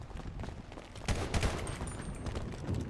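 Bursts of rapid gunfire ring out against zombies in the video game GTA V, a dense, loud stream of shots over about three seconds.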